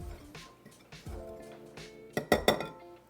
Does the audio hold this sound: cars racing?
no